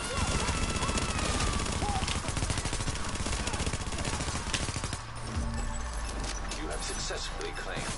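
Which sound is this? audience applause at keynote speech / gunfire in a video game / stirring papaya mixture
gunfire in a video game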